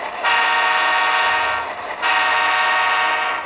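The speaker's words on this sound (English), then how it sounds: "Let's see what the horn sounds like." A model Pennsylvania Railroad locomotive sounds its horn in two loud, sustained blasts, the second starting right after a brief dip, alone without any talking.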